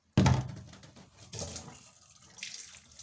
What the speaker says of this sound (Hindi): पानी भी ख़त्म हो गया टूटी से